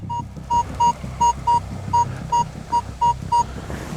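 Ten short electronic beeps from a metal detector in a field, at a steady mid pitch, evenly spaced, ring out over a low rumbling hum of background noise.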